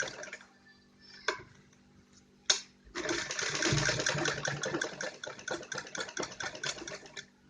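Sewing machine running steadily as it stitches a child's long gown, a continuous close whirring hum after a few brief starts and clicks, with no talk.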